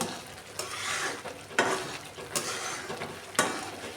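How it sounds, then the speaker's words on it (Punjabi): Semolina halwa being stirred in ghee in a pan, with a steady soft scraping sizzle broken by four sharper clinks of the spoon against the pot at irregular intervals. "ਹੁਣ ਆਪਾਂ ਇਹਨੂੰ ਹਲਾਵਾਂਗੇ"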